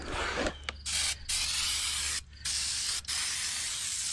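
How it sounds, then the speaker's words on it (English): Aerosol cleaner hissing in several bursts onto the brake parts of a 2012 Land Rover LR4, close and steady, separated by short pauses. "spray this off real fast"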